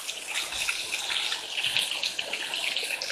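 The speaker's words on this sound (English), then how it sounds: "The waters of this fall, although not very imposing, come splashing and dancing down the irregular face of the grey sandstone." Water from Lila Falls splashes and tumbles down an irregular grey sandstone face, a steady, fairly soft rushing and spattering wash with small bright splashes throughout.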